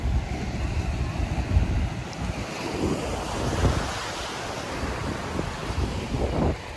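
Ocean waves at the sea roll in with a steady, rushing wash, heavily buffeted by wind noise on the microphone, a continuous loud surf with swells rising every couple of seconds.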